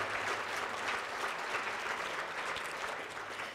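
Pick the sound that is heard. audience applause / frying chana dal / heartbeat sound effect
audience applause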